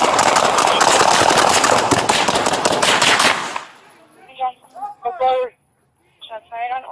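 Police officers fire their service weapons at a street scene, a dense rapid burst of loud gunshots for several seconds, followed by shouting voices.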